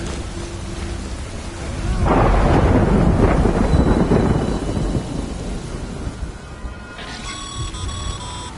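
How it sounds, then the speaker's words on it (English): Heavy rain pours during a thunderstorm in the video game Death Stranding. A loud rolling thunder swell builds and fades over a steady close downpour, followed by a few faint electronic tones. "Good thing it was raining."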